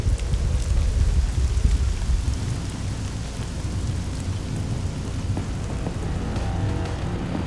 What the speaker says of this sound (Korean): 예보에도 없던 비가 내리기 시작하고